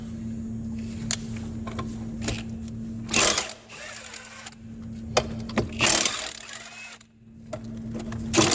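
A wrench works loose four tight bolts on a hay mower with a series of clicking ratchet and metallic clunk sounds, interrupted by a few sharp louder knocks over a steady low hum.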